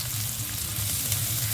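Garlic sizzling in hot oil in a pan while cooking ginisang toge, a steady, soft crackle throughout under a faint low hum, with no talking.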